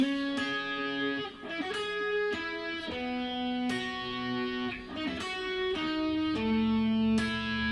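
A distorted electric guitar with effects plays a repeating riff of sustained, ringing notes and chords from a song, fairly close and steady, with no voices.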